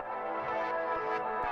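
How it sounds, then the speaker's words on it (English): A music loop in FL Studio plays with a bright, dense tone, then a tape stop effect drags its pitch sharply downward at the very end. "That's pretty much like my new go-to tape stop effect"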